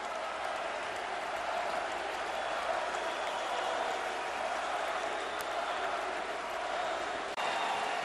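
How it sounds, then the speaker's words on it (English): Arena crowd of Pittsburgh Penguins fans at Game 6 of the 2008 Stanley Cup Final against the Detroit Red Wings applauding steadily as the Cup is carried out, a dense, sustained wash of clapping with a low murmur of voices beneath. "they are respectfully watching, standing, many of them applauding as it is carried out to be presented to the opposition"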